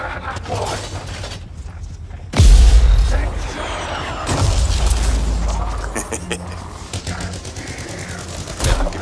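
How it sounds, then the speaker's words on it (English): Mortar rounds launch and explode in the video game Anthem, two heavy booming blasts with shattering debris and rumbling aftermath amid mechanical gunfire, with a voice talking over parts of it. "Time to use that mortar."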